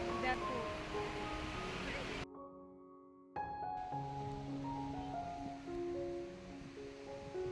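Steady roar of sea waves washing up Puri beach at night, a broad continuous wash with a short dropout midway, while people chat nearby.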